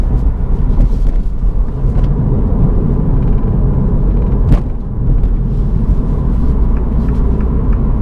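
A 2022 Mini Cooper S 5 Door drives through a series of S-curves, giving a steady, loud interior engine and road rumble that runs unbroken for the whole stretch, with no talking.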